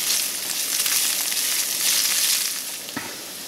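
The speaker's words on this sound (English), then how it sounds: "We're gonna let the onions, you want the onions to saute." Red onions saute in a hot pan on a restaurant grill, a bright steady sizzle up close that eases off near the end, with a brief clink of a utensil.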